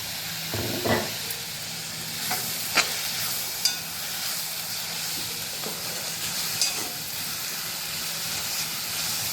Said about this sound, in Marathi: तेल टाकूया तर ह्याला पण तांबूस कलर येईपर्यंत आपण फ्राय करून घ्यायचं आहे